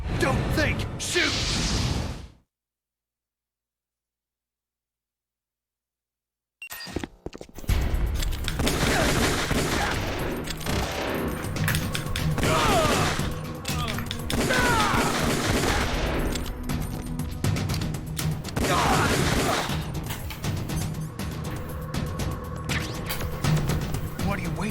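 Gunfire rattles in Metal Gear Solid: The Twin Snakes as bursts of shots over a dense battle din. A brief silence falls early on, then the shooting continues loud and sustained, with voices shouting over it.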